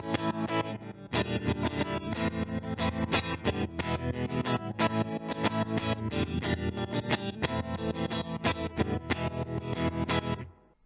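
Electric guitar played through a MOOER tremolo pedal set to square-wave modulation at full depth, giving a loud, continuous chopped pulse with a steady on-off rhythm for about ten seconds before stopping.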